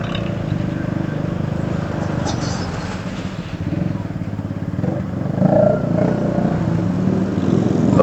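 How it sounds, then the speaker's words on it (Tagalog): A Yamaha Sniper 150 motorcycle with an aftermarket exhaust rumbles and idles nearby with a gruff, throaty tone, rising briefly as it revs. "Lakas ang tunog ng motor ni Parikoy, ah."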